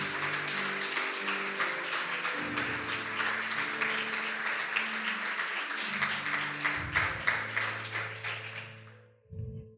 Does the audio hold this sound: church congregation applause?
yes